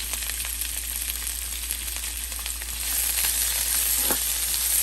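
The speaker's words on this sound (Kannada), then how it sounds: "ಈಗ ಕಟ್ ಮಾಡಿರೋ ಸ್ವೀಟ್ ಪೆಪ್ಪರ್ ಸೇರಿಸೋಣ" Cut sweet peppers fry in an oil-filled pan for a Karnataka-style palya with curry leaves, giving a steady, close sizzle and hiss that grows a little louder partway through, with a few soft stirring clicks and no talking.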